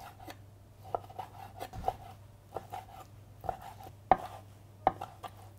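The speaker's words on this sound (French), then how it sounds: "Vous prenez les morceaux, bien épongés, et on va tailler donc des dés de 1 cm." A knife dices venison into small cubes on a cutting board, giving crisp, irregular chopping knocks, about ten in a few seconds, close and moderately loud over a low steady hum.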